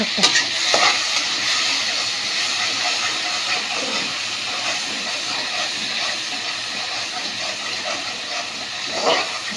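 Mustard seeds and spices crackle and spit in hot oil, a loud continuous hissing sizzle with a few sharper pops at the start and end.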